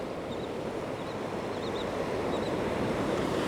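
Wind blows steadily at the seashore, a broad continuous rush mixed with breaking surf, fairly loud and close to the microphone, with no voices.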